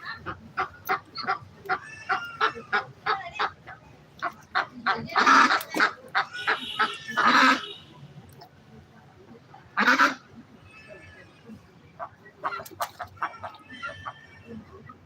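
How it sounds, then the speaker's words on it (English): Ducks at a walking spot in Ninh Binh, Vietnam, quacking and honking in loud, close bursts, a rapid chatter of calls broken by several longer squawks. "Ducks are having a good quack, aren't they?"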